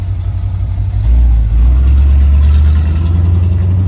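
Car engine running after repairs to a long-parked, disassembled vehicle, a loud steady close idle that rises slightly in pitch and holds a deeper drone after about a second, with no talking.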